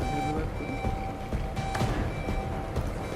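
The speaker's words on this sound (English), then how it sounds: "I'm gonna stop caring about the alarm." An alarm sounds in the video game Deus Ex: Mankind Divided as a steady, high electronic tone held under muffled in-game clatter and rumble.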